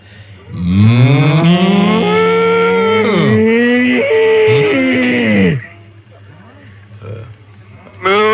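A voice imitates a cow mooing, drawn-out loud moos with sliding pitch, close and alone, followed by a brief quieter pause.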